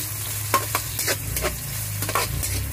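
Garlic sizzles in a hot pan for tilapia sarciado, a steady low frying hiss broken by several sharp spatula scrapes and stirs, close and fairly loud with no talking.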